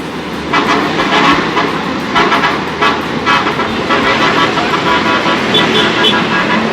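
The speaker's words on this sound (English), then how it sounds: "They're all honking at you, mate." Busy traffic in Vietnam rumbles steadily while several car horns toot in short bursts, close and loud over the constant road noise.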